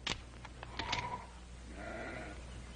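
Sheep bleating on a Western ranch, a few short cries near the start followed by a longer, louder bleat toward the end over low steady background noise.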